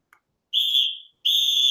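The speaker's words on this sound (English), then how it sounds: "Now rewind your brain to the voicemail and place it after this whistle." Two sustained high whistle blasts, the first fading out and the second held steady and loud, separated by a brief silence, played on a sports talk radio broadcast.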